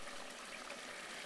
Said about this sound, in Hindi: अब इसमें हमने थोड़ा सा जब फ्राई हो गया तो 1 मग पानी का डाला है पूरा